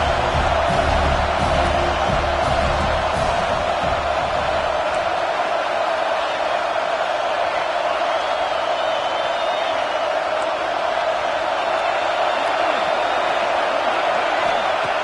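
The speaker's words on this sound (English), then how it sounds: "Listen to the crowd energy here in the early going." Stadium crowd at a college football game roaring in a dense, steady wash of cheering that holds loud throughout, with some lower rumble early on.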